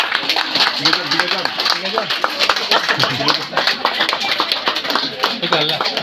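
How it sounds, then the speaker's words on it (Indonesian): Long, dense applause from a church congregation at a patron saint feast Mass, steady and sustained throughout with scattered voices mixed in. "mari kita dulu tepuk tangan yang panjang untuk mereka semua"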